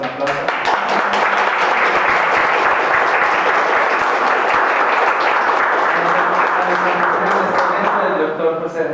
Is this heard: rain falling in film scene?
no